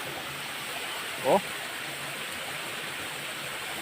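Clear river water flows steadily in a continuous broadband rush, close and even throughout, with someone briefly speaking over it.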